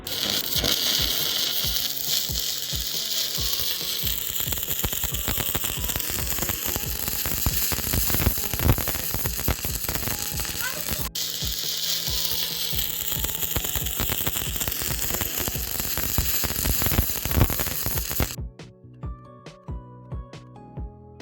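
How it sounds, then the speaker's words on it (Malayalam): Arc welding with a flux-coated welding electrode, a loud continuous crackling and sputtering buzz that runs steadily for most of the time, then cuts off abruptly into quiet with a few faint ticks. "ഫ്ലെക്സ് കോട്ട് ചെയ്ത വെൽഡിംഗ് ഇലക്ട്രോഡ് വെച്ചാണ് ഈ ചെയ്യുന്നത്"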